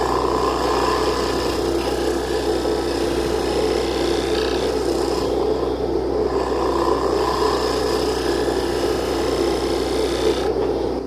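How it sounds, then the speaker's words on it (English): A scraper runs against a turned wooden winged bowl spinning on a lathe, making a steady, loud rasping whir close by, with the motor's drone underneath throughout and no talking. "I'll just run a scraper on it, just to give it a little bit"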